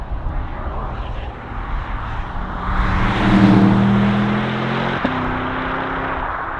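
A Porsche Panamera Turbo S E-Hybrid Sport Turismo accelerates hard, its engine noise swelling from a steady drone to a loud, rising surge before easing into a sustained cruise tone.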